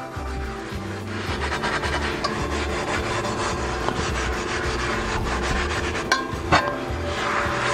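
Steady scrubbing of a rusty metal piece with a soapy SOS pad, a close, continuous rough rubbing with repeated strokes and a couple of sharper knocks near the end, no speech.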